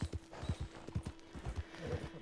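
Horse hooves clip-clop in a Western video game, Red Dead Online, a quick uneven rhythm of fairly faint hoofbeats with a faint snort or whinny.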